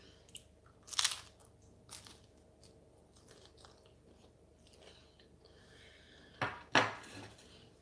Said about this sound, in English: I'm eating tacos.